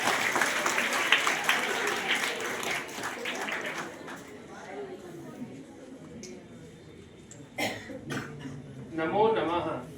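An audience at East Point school in Delhi gives a loud round of clapping to welcome a speaker, dying away after about four seconds into scattered coughs, throat clearing and murmured voices.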